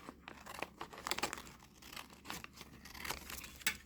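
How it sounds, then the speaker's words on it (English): Paper being cut and handled for a junk journal, heard as a quick close series of crisp snips, rustles and crinkles at low volume, with no voices. "I'm going to cut this part here."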